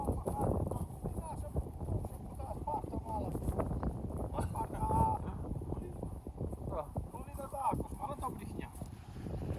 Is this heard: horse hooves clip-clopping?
yes